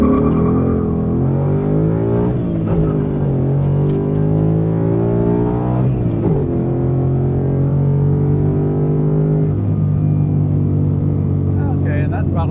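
A Ford Mustang GT V8 with a Stainless Works 3-inch cat-back exhaust roars and climbs through several gears while merging into traffic, each shift dropping the pitch before it rises again, loud and close from inside the car.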